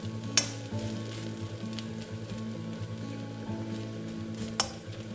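Prawn fry sizzles steadily in a pan while its moisture cooks off, a continuous close frying hiss with a couple of sharp crackles and pops standing out.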